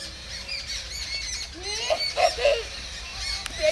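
A parrot in a lemon orchard gives a few sharp squawks and calls in quick succession, moderately close over a faint outdoor background with no talking.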